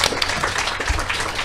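Audience applause for a panelist at a book festival, a dense, steady patter of many hands clapping throughout the short stretch.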